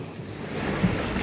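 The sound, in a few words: strong wind blowing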